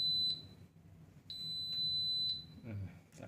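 An Electrolux EWF1074 front-loading washing machine with a door that will not lock sounds its error alarm: steady high electronic beeps, one short and then one long tone lasting about a second, loud and close, with faint low background noise.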